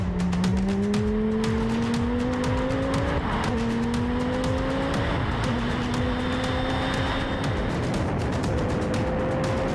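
A Lamborghini rally car races flat out on a Targa Tasmania tarmac stage, its engine screaming close and loud through rising gear pulls with brief shift breaks, tyre noise underneath, and nobody speaking.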